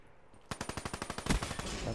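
Rapid automatic gunfire from a first-person shooter video game, a quick burst of about a dozen evenly spaced close shots starting abruptly after a brief quiet moment, with a louder impact partway through.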